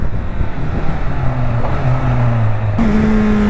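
A Honda CBR1000RR sport motorcycle engine, rated around 200 horsepower, accelerates close by, its tone climbing steadily and then jumping to a higher, stronger note near the end.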